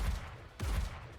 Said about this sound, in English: she's firing the machine gun seemed really realistic